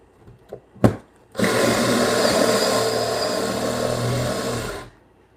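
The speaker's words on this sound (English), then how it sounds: "This Forstner bit gets jammed with wood stuff quickly." A power drill driving a Forstner bit into timber while building a timber-framed bunk bed: a few light knocks, then a sustained loud whirring bore for about three and a half seconds that cuts off abruptly.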